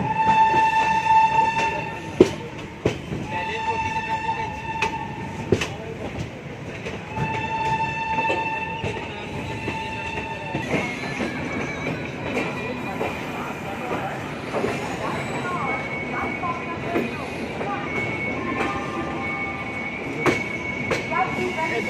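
The Amritsar–Bandra Paschim Express passenger train running between Jalandhar Cantt and Ambala Cantt in India, with repeated horn blasts early on over a steady rumble and rail clatter, and faint voices in the background.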